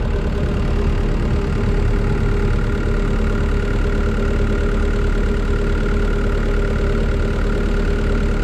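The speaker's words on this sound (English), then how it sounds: "The engine is working fine, it's very quiet." A 1.7 CDTI diesel engine in an Opel Meriva idles steadily and evenly, a low continuous rumble with a faint tonal hum, close by and unchanging throughout.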